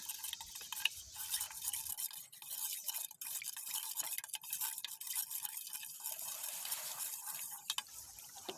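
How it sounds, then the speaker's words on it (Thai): A spoon stirs coconut milk with ground salt, sugar, rice flour and corn flour in a pot, giving steady, close scraping and swishing strokes in an irregular rhythm, with no talking. "จากนั้นเราก็จะคนส่วนผสมให้ละลายดีนะคะ"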